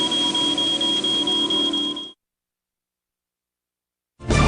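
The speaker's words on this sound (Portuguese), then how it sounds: "Quando as partículas de fumaça rompem essa corrente, o alarme dispara." A smoke detector alarm sounds loud and steady for about two seconds, a continuous piercing electronic tone that cuts off abruptly, leaving silence before it starts again near the end.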